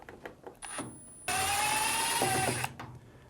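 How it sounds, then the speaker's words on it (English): A powered screwdriver backs out Phillips stainless steel screws from a Samsung washing machine lid hinge: one steady, close whirring run of about a second and a half, with a slight pitch drop near the end and light handling clicks before and after. "Now remove the two Phillips screws."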